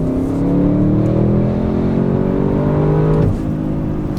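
Twin-turbo V8 of a 2021 Audi RS6 wagon accelerating hard from inside the cabin, a steady rising engine drone that climbs through the revs, then shifts and eases near the end, with no talk over it.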